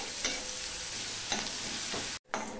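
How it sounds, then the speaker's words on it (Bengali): Garlic and onion fry in a pan for egg brinjal, a constant bright sizzle broken by a few scraping stirs of a spatula. "এবার রসুন পেঁয়াজটা লাল লাল হয়ে ভেজে নিতে হবে ভালো করে"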